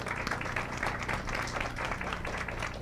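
A seated audience at a human rights panel event claps in a round of applause, faint and somewhat distant, with a steady wash of many hands and a low background hum underneath.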